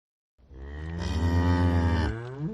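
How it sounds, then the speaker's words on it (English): A cow lets out one long, loud, deep moo after a moment of silence, close up and alone, swelling and then tailing off. "I think the cow goes moo"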